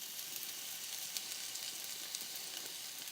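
Minced shallot sizzles steadily in hot garlic-infused oil, a bright even crackle with tiny pops, close and unbroken with no talking.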